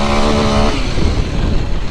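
A motorcycle engine revs loudly up close, holding a strong steady tone for under a second before dropping into rougher, pulsing engine noise.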